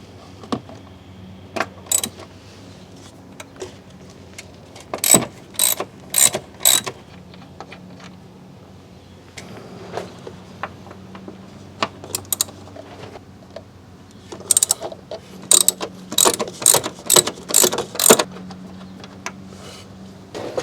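A hand ratchet works the two 14mm bolts on the rear shock absorber bracket of a 2008 Hyundai Elantra. Several short bursts of quick, close mechanical clicking are separated by quiet pauses, with no talking.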